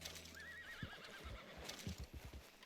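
A horse in Red Dead Redemption 2 lets out a high, wavering whinny, followed by snorting and hoofbeats clip-clopping, heard fairly quietly with no speech.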